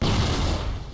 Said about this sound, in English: Flash bomb.